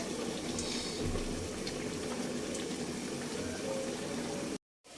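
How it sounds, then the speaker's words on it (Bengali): Pabda fish bhuna cooking in a pan, a steady close sizzle and bubbling hiss that carries on evenly throughout, then cuts off abruptly near the end. "তো এখানে আমার মাছ ভুনাটা হয়ে যেতেছে।"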